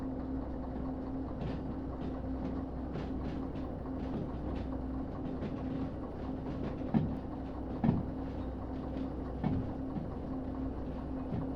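Train rolling along the track in the Derail Valley railway simulator game, a steady low rumble with a constant hum and scattered clicks and clunks of the cars, a few louder knocks near the end, no voices.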